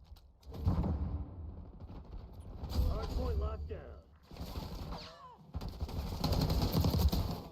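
Bursts of rapid automatic gunfire from the video game Black Ops 6 in ranked play come in several separate volleys, with talk over the shooting.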